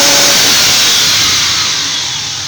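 A car engine revs hard as the accelerator is pressed fully during a mechanical health check with a vacuum gauge, a loud, sustained roar that slowly eases off as the pedal is released.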